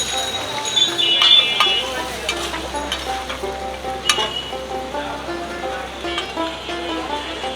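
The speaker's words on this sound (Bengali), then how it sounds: "পেঁয়াজ ভাজি করছেন" Onions fry in a pan at an Old Dhaka street food stall, a loud steady sizzle with scraping stirs and a few sharp clinks, while voices talk nearby through the busy market noise.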